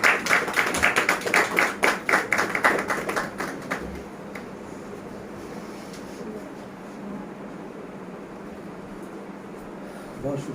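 An audience at a poetry gathering in Lahore applauds to welcome poet Qamar Raza Shahzad, a burst of close, lively clapping for about four seconds that quickly fades into quiet room tone.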